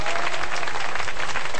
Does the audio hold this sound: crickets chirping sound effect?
no